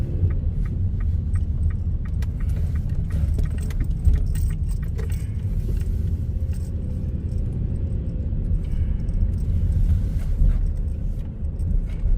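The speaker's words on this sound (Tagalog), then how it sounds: "Traffic dyan, oh." Road traffic passing on a street in New Zealand, heard from inside a vehicle as a steady low engine and road rumble with light rattling throughout, and no one speaking.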